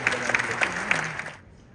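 A crowd applauds at an India Day celebration in Edmonton, welcoming the Consul General. The clapping is brisk with a few sharper claps and fades out toward the end under a fading voice.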